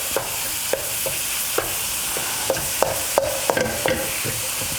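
Pork frying in a pan without oil, a steady close sizzle under repeated clinks and scrapes of a utensil stirring the meat at irregular intervals.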